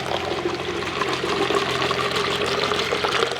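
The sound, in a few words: water pouring into plastic bottle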